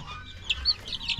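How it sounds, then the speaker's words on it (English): Two farm hens clucking softly, a few short bright calls scattered over a second, fairly close against quiet background. "Got two hens."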